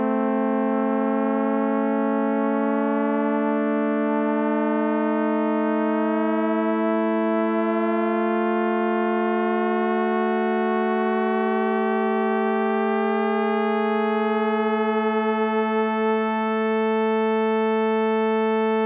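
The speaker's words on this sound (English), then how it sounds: "play a constant pitch note, but this time with the overtones of a vibrating string, and then add another note that starts at the same pitch but gradually rises" Two sustained string-like tones with rich overtones, one holding a steady pitch while the other starts in unison and slowly glides upward, beating and clashing then settling, loud and alone for nearly twenty seconds.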